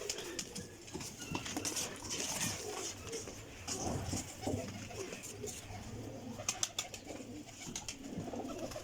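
Pigeons coo softly and continuously amid a busy flock, with rustling, wing flutters and occasional sharp taps in the background.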